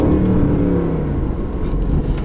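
A 2020 Aston Martin Vantage engine in track mode with paddle shifters revs hard, a loud, close, continuous roar with no voices over it.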